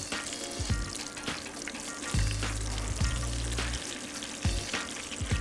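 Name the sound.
meatballs sizzling as they brown in a frying pan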